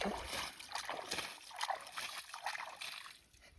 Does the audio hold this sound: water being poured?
yes